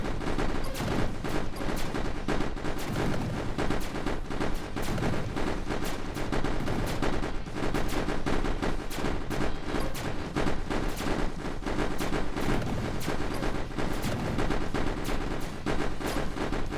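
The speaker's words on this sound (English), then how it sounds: "I love how the bomber explodes into a bajillion bullets on death." Dense, continuous bullet-spray gunfire from a roguelike shmup, with a bomber enemy bursting into a flood of bullets on death; rapid overlapping pops and crackles stay steady and loud throughout, with no talking.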